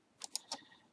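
A few crisp, close computer keyboard key presses, three distinct clicks spaced about a tenth of a second apart, as arrow keys nudge a line in rhinestone design software, quiet and alone.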